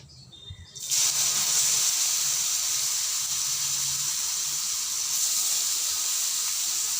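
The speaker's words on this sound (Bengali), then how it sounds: "তার সাথে আমি এই গ্রেট করে রাখা পেঁপেটা" Grated fresh papaya dropped into hot oil over tempered spices, setting off a sudden loud hiss that stays as a steady, bright sizzle, with no one speaking.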